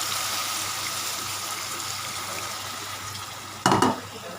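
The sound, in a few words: water poured into pot for lotus stem gravy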